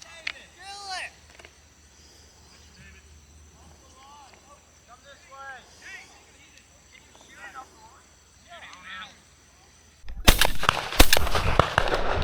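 A shotgun blast rings out during a stormy dove hunt, loud and sudden after a stretch of talking, followed by rough noisy crackle and wind-like rumble as voices continue nearby.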